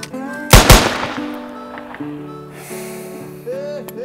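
Two sharp revolver-like gunshots crack close together near the start of a staged western duel, followed by a ringing tail and sustained musical tones.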